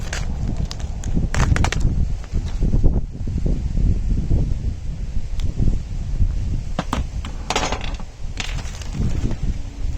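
Wind gusting steadily outdoors as a DIY vinyl roll feeder is assembled, a continuous low rumble with brief rustling and clicking of handled plastic and wood over the top.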